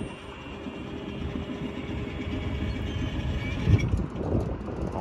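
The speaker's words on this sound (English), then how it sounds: "We got a CSX train down the line" A CSX freight train rumbles steadily down the line near Sturgeon Point Road in Derby, New York, with a constant low roar, wheel rattle and wind buffeting the microphone, growing slightly louder toward the end.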